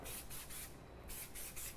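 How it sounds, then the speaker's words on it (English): Cooking spray hisses onto a waffle maker in a kitchen, coming as short bursts of airy spray, three quick ones, a pause, then three more, close but quiet. "So we have our waffle maker here, and Ian's going to spray that"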